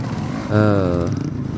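A motorcycle on a forest trail holds a low, steady engine note with a brief swell in revs as it keeps traction and crawls forward, heard close and alone.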